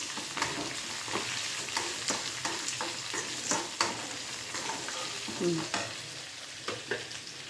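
Finely chopped onions fry and sizzle in a pan, a continuous close hiss broken by irregular scraping and stirring clicks, with no voices.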